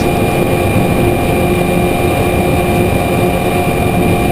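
A close pack of Formula Vee race cars heads through turn 1 in a NSW race, their engines merging into a steady, loud, unbroken drone heard from inside one car, with no voices.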